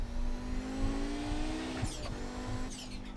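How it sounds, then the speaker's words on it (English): Blow-off valve on an Audi 90 GTO race car in the iRacing sim, two quick airy whooshes cutting over a steady, droning engine note. "it's got that blow-off valve sound"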